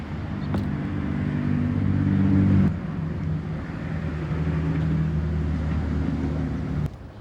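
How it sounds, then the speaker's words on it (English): Cars passing along a road, a continuous loud engine and tyre rumble that swells and shifts as vehicles go by, with a sharper pass near the start and another near the end. "So many cars are passing by"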